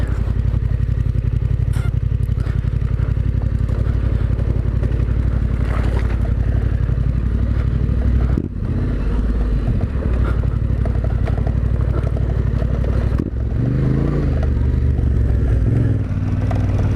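Yamaha Ténéré 700 (T7) adventure motorcycle engine chugging steadily along an overgrown dirt trail, loud and close throughout with a constant low drone, brief dips near the middle and toward the end.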